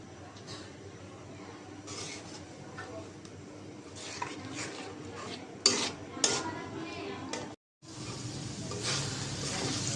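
Potatoes being stirred into spiced oil in a pot, with scraping spoon strokes and clinks against metal over a faint sizzle and a brief silent gap near the end.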